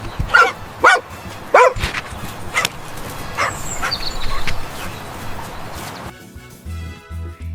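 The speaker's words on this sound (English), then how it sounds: "D for dog." A dog barks in several sharp, separate bursts early on, then gives softer yips and whimpers, fairly close and clear with no talk over it.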